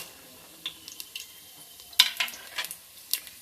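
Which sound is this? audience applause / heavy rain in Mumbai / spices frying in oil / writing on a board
spices frying in oil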